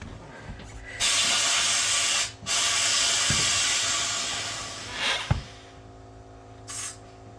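A tire bead sealer on an Atlas TC 589 tire machine blasts compressed air to seat a tire, giving a loud, steady rushing hiss that lasts several seconds. A brief gap interrupts it, then short hissing bursts follow as the air tails off.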